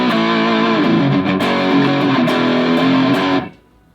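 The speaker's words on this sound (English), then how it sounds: "Then we'll add more overdrive on top of it." Electric guitar played through an overdrive pedal on a budget rig, a thick, higher-gain distorted tone sustaining steadily for several seconds before cutting off abruptly near the end.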